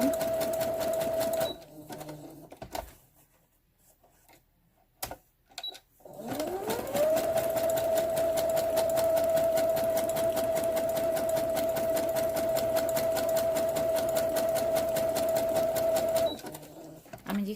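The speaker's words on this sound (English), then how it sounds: "I'm going to do a zigzag stitch, just all the way around." A sewing machine running a zigzag stitch around a small craft pocket-tag booklet cover: a short run, a quiet pause with a few clicks, then a long, steady whirring run before it stops.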